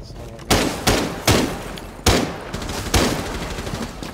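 Several heavy shotgun blasts in Rainbow Six Siege on the Consulate map, five or six loud booming reports at irregular intervals, each with a short decaying tail.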